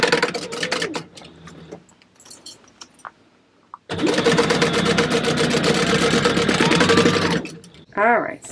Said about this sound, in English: I'm basting 1/8 of an inch away from the edge. I still have a 4 stitch length.